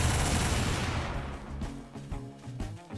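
Rocket launcher blasts in the Garry's Mod video game: a loud explosion roars out at the start, then a run of quicker, lighter bursts and rumbles that fade over a few seconds.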